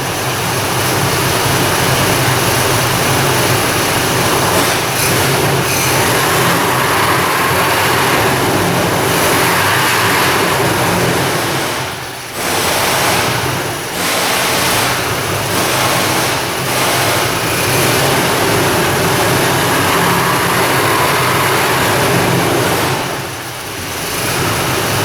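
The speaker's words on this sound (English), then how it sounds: "Go rev her up." A Chevy Colorado engine with a P0017 code runs loud and close, its steady roar rising and falling slightly with a couple of brief dips as it is revved.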